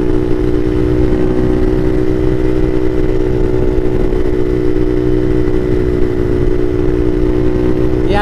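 A Bashan Motomax 250 motorcycle fitted with a Nibbi PE30mm carburetor runs on the street, a loud, steady engine drone with a constant pitch and even throb from a close mic, no talking.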